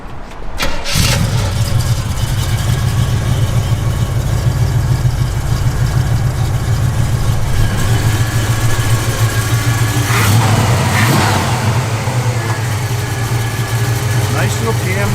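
A 1967 Chevrolet Nova SS V8 with a lumpy cam fires up with a quick crank, then settles into a loud, choppy idle that stays steady and close, with faint background clatter and no clear talk over it.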